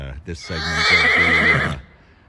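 A horse neighs loudly and close by, a long shaking whinny that lasts over a second after a couple of short snorts, standing alone with no voices over it.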